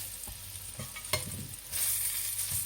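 Lamb rissoles fry in a pan with a soft steady sizzle, a few light scrapes and taps, and the sizzle swells louder in the last second.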